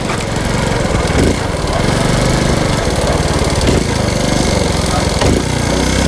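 Honda Cub C90 motorcycle engine running loud and close while changing down through the gears, a buzzing small-engine putter with a couple of brief shifts in tone.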